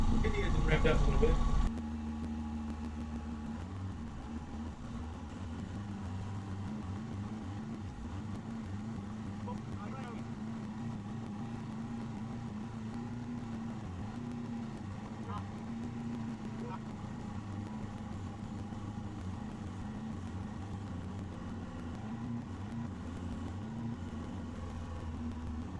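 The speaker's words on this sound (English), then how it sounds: "Get the engine wrapped up a little bit." A Honda CR-V engine runs at a steady raised idle during a fluid change, a continuous low droning hum with an even tone and no distinct revs, heard close up.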